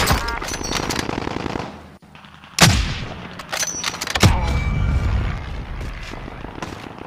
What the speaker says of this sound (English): I just sniped the hell out of some guy